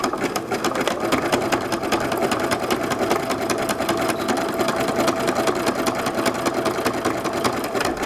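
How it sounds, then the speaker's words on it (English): Steady, rapid mechanical whirring of a sewing machine zigzag stitching about 4 millimeters wide, running continuously at an even pace, close and fairly loud, with no voices. "with your sewing machine, do a zigzag of about 4 millimeters in width"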